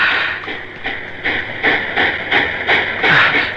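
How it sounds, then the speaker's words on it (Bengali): A train rumbles past in a film scene, with rhythmic clattering bursts of wheels over rail joints growing louder and hissing steam over a steady roar. "ট্রেন, ওই ট্রেনটি নিশ্চয় করাচি যাবে।"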